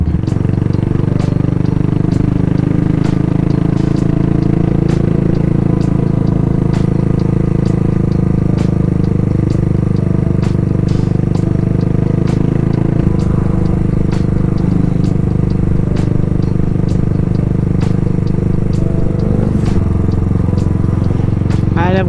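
A Cafe 400 motorcycle engine idles while parked on a Baguio road, a steady low mechanical rumble with light clatter running throughout, its pitch shifting slightly a couple of times, with no talk over it.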